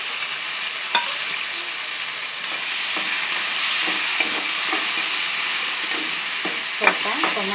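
Chopped tomatoes frying in a pan of oil for a Hubli-style brinjal curry, a steady close sizzle with scattered stirring scrapes and clinks throughout.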